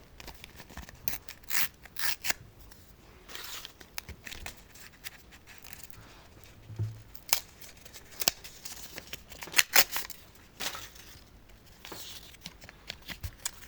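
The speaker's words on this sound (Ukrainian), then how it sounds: "Рвемо наш пакетик." A paper surprise packet crinkles and tears open in short bursts, close by, with rustling and handling noises throughout.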